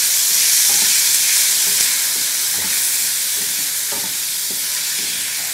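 Mango blossoms frying in a ghee tempering, a loud continuous sizzle and hiss with faint soft stirring knocks through it.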